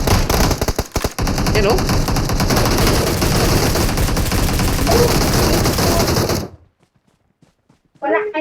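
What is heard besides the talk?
sniper and machine gun fire in PUBG video game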